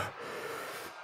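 A voice imitates a wounded orc panting, one long breathy, rasping exhale held for about a second, close and alone with no words.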